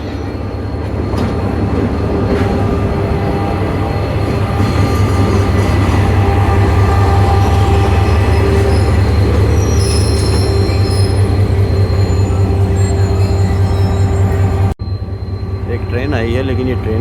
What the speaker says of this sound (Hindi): एक ट्रेन आई है लेकिन ये ट्रेन कौन सी है मुझे इसका अंदाज़ा नहीं है